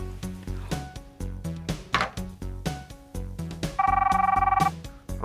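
An old-style telephone bell rings in a short electronic trill near the end, heard over a loud, rhythmic percussive music bed with punchy hits.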